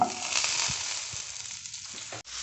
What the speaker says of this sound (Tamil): இப்போ ஒரு பேன் வச்சுருக்கேன். அதில் நம்ம கொஞ்சம் பட்டர் போடலாம்.